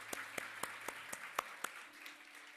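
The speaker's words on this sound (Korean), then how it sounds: "우리 하나님께 감사와 영광의 박수를 드리겠습니다." Sparse, slow hand claps from a small church congregation during a Sunday worship service, a handful of distinct claps spaced evenly and fairly faint in a quiet room.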